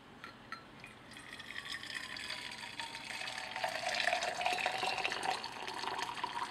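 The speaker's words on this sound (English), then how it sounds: "I got my kettle right here. And pop the lid off, like so, and then give that a pour." Water pours into a kettle, a close, fairly quiet splash and gurgle whose pitch rises steadily as the vessel fills over several seconds, with no voices.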